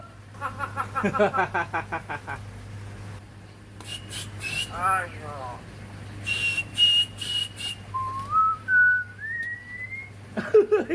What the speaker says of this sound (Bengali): ময়না কত সুন্দর বাঁশি বাজায়